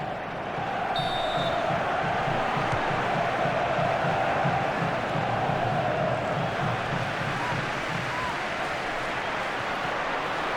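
Crowd noise from a FIFA 14 football video game match, a constant dense stadium roar with a swelling ooh, under commentary.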